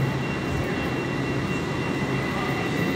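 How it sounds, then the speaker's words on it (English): Commuter trains at Grand Central station in New York fill the concourse with a steady, loud rumble and hiss, a broad continuous roar of rail noise without talk. "So these are the trains that go out of town."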